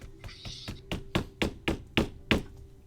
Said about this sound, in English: It's banging. And you hear it from about the handle level.